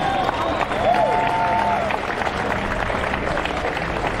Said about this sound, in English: Let's give them a big round of applause as they come in.